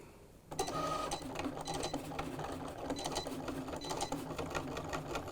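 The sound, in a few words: Cricut cutting machine cutting sticker material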